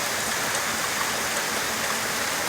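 River water flowing during a storm, a loud, continuous rushing hiss close by, with no voices heard.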